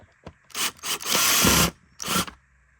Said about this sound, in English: Use this drill or screwdriver and screw them right back in